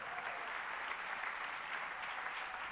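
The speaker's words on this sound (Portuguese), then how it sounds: "Vamos dar um aplauso ao Pastor Chris, agradecer por essa palavra." A church congregation claps for a pastor after a sermon, with steady, dense applause from many hands, heard somewhat distant and quiet.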